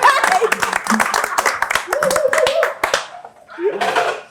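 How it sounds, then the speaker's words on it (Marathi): Small group standing and clapping in a studio, a brisk flurry of close, uneven hand claps mixed with chatter and laughter, the clapping fading out as talking carries on. "थोडस आम्ही उभे राहून टाळ्या वाजवणार."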